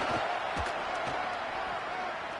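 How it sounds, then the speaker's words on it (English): A stadium crowd in the College Football 27 video game keeps up a steady, dense roar of cheering that swells and holds at a loud level throughout. "Decibels rising as the crowd gets behind this defense on 3rd down."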